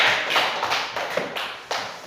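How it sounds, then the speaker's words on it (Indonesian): A few sharp, scattered claps from students in a classroom, sounding close and uneven, each clap standing apart with short gaps between. "Oke, tepuk tangan buat semuanya."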